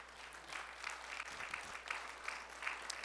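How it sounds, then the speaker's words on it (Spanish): A church congregation claps in praise during a Spanish-language sermon, a steady wash of applause that is fairly faint and distant throughout. "¿Puedes darle un aplauso de alabanza a Él?"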